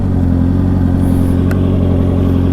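Motorcycle engine fitted with an aftermarket eBay exhaust, a loud steady low rumbling idle with a constant throbbing pulse, close and alone with no talk.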